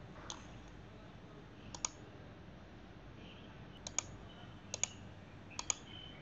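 A computer mouse clicks faintly in a quiet room while tracks are drawn in KiCAD PCB layout software, with a handful of sharp, isolated clicks spaced a second or two apart, some coming as quick double clicks.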